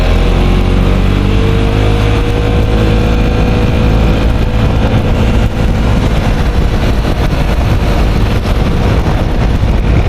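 Yamaha XMAX scooter and MT25 motorcycle riding off from Madiun on a sunny day, engines droning steadily and loudly throughout, with rising pitch sweeps as they accelerate, mixed with heavy wind noise and no talk.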